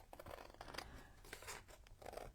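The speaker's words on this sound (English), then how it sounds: "Try to get straight with scissors." Long scissors snip through junk-mail paper in quick, quiet crunching cuts, close and soft with no talking.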